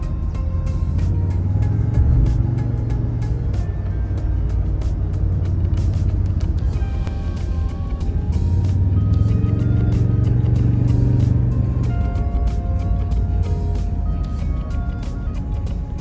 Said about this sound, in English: Listen to this motor. This truck has some great pickup.